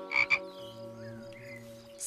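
A cartoon frog croaks, a couple of sharp croaks at the start followed by a sustained tonal hum with wavering higher notes.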